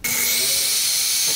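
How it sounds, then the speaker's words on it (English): Power drill boring a 1/8 inch hole into a walking robot's side plate, a brief close, steady high whine with a hissing bite starting abruptly and holding throughout. "we have to drill a few holes into the side plates"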